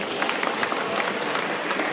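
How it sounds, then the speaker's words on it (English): Audience applause at the opening of a 2016 karate championship, a dense, even wash of many hands clapping, fairly close and steady for a brief stretch. "please give a round of applause"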